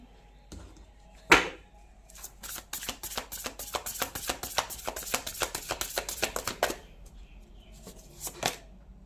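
Tarot cards are shuffled by hand, a dense run of quick riffling slaps close up, preceded by a single sharp knock and ending with a couple of scattered taps.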